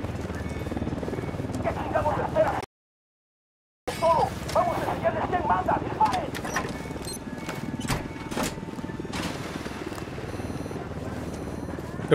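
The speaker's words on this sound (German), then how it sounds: "Jetzt kommt schon wieder der nächste Hubschrauber." In the video game Ghost Recon Wildlands, a helicopter's rotor thrums steadily in the background, briefly cut off by a short gap, with game sounds and some voices over it.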